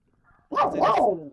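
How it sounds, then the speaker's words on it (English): A dog barks loudly nearby in a short burst of yelps and barks that cuts into the conversation, with a voice speaking briefly just before it. "That was a dog."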